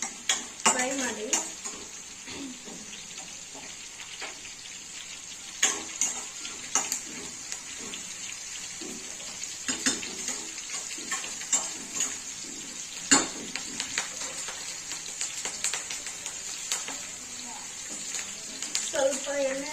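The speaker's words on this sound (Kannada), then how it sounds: "ಸ್ವಲ್ಪ ಎಣ್ಣೆಯಲ್ಲಿ ಸ್ವಲ್ಪ ಹೊತ್ತು ಫ್ರೈ ಮಾಡ್ಕೊಳ್ಬೇಕು." Green chillies fry in a little oil for a bottle gourd stir-fry, giving a steady close sizzle with clinks and stirring knocks throughout.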